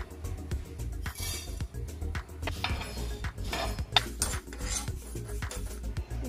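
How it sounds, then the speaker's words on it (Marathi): Coriander and cumin seeds roasting in a pan, heard as a quick series of close dry clinks, scrapes and taps of a spoon against metal, with no talking. "धना आणि जिरे भाजून घेऊया।"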